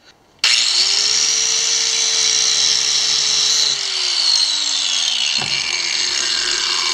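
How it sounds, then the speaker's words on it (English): Power grinder cutting threads off a steel rod for a motorcycle tie-down hook, a loud continuous high-pitched whine with a steady motor tone that drops in pitch as the wheel slows near the end, no talking. "I'm going to grind off a few inches of threads here just to smooth it down"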